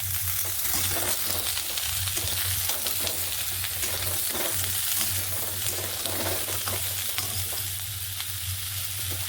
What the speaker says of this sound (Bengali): মশলাগুলো একটু ভাজা ভাজা হয়ে গেছে, এবার দিয়ে দেবো কেটে ধুয়ে রাখা আলু পটলের টুকরো